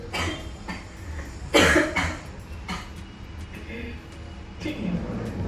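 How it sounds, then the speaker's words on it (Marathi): Several harsh coughs, one sharp and loud burst among them, from a person nearby with background noise between. "खोकला येतोय"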